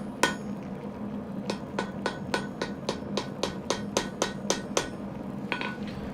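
A hammer strikes hot steel on an anvil during knife forging, with about fifteen sharp, ringing blows at a steady, brisk rhythm over a low hum, close and loud, with no talking.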